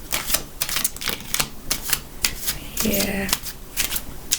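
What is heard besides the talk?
shuffling tarot cards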